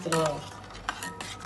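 A utensil stirs milk with sugar and vanilla in a pot, producing a brief close scrape and clink with a soft simmering hiss, no talk.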